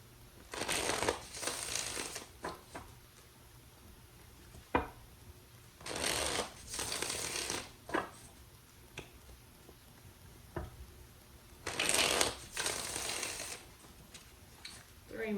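Tarot cards shuffled by hand in three main crisp riffling bursts spread across the stretch, with softer card handling and faint taps between them, close and fairly quiet.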